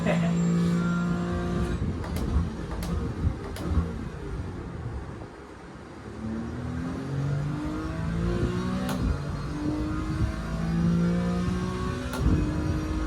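A GT4 race car in iRacing at Knockhill, its engine revving hard and climbing through repeated upshifts with short drops in pitch, loud and close, with a voice talking briefly over it.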